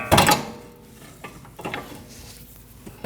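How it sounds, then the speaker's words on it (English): Prying up on the rear upper control arm of a 2013-2019 Ford Escape with a bar, a sharp metallic clunk at the start followed by quieter scraping and creaks, close and without talk. "Now you want to pry up on the upper control arm."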